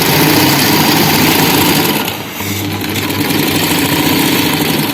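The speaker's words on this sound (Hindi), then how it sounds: "ये अब मैंने सीधी साइड से बाहर किनारे पे भी सिलाई लगा रही हूँ" A sewing machine running a line of stitches along the outer edge of a round fabric panel, a loud, continuous motor whirr that dips briefly in the middle, then carries on steadily, with no talking.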